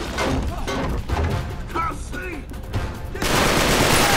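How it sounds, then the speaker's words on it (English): Rapid bursts of gunfire in the video game Uncharted 3 rattle in a dense, noisy barrage, with voices shouting briefly amid the shooting. "Just follow the gunshot."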